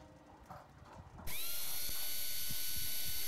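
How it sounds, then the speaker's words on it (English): Simulated surgical drill in a virtual temporal bone simulator, with faint clicks at first and then the drill starting abruptly as a loud, steady high-pitched whine that holds to the end. "We'll start with the biggest drill, and then we start drilling."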